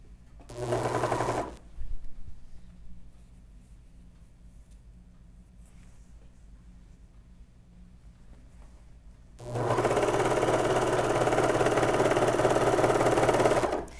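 A serger stitches the side seam of a knit tuque in two bursts, a short whir near the start and a longer steady buzzing run at the end, close and alone, with quiet between.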